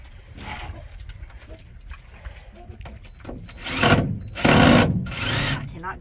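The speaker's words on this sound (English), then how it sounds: "Get the hammer and bang the board in." Several loud, broadband impacts toward the end, a heavy bang followed by two more, like a hammer striking a board, over low background noise.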